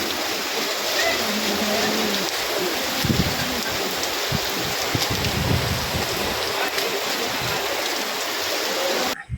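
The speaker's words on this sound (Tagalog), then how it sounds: "sobrang lakas ng ulan" Heavy rain pours steadily in a dense, continuous hiss that stays loud throughout, with a few deeper thumps and gusts beneath it.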